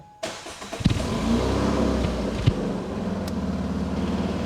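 A Renault Clio RS 200 engine fires up abruptly, blips a couple of times, then settles into a loud, steady running note with a brief rev midway.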